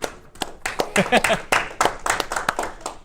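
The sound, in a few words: clapping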